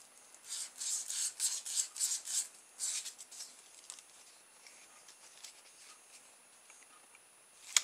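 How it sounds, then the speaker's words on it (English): Sandpaper rubs back and forth over a small valve fitting for a pop bottle rocket, a run of close, raspy strokes in bursts that fade to light scratching, ending with a brief knock. "I'll go and get a bit of sandpaper and rub that clean now."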